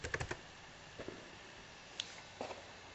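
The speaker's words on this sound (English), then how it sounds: "What I do is double click that" A computer mouse is double-clicked on a desktop icon: faint, sharp clicks, a quick cluster at the start, then a few isolated clicks spaced across a quiet background.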